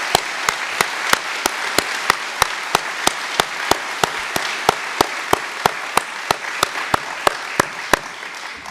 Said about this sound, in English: this is the applause you should have gotten from the Republican Party last year.